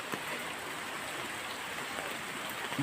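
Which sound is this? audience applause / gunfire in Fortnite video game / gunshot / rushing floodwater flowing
rushing floodwater flowing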